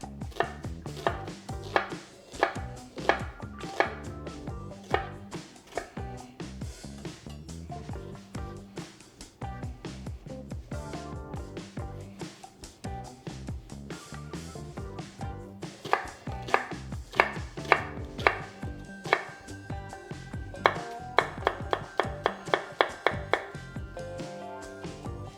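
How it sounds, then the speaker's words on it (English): A kitchen knife chops an onion on a cutting board, a dense run of quick, crisp taps close up for the whole stretch, the rhythm tightening and loosening as the blade works through the pieces. "And that's our chopped onion for our chili."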